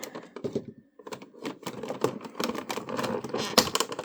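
Scissors snipping plastic packaging ties off a Star Wars Black Series Obi-Wan Kenobi action figure, a quick run of sharp close clicks and small plastic rattles, dense and uneven, with no voice over it.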